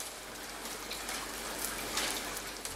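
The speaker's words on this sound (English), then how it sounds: "you can hear it start to fall at the end after the fade to black" Rain begins falling in the video game Ender Lilies: Quietus of the Knights, a steady hissing patter of drops on surfaces, with a few sharper drips standing out and no voices.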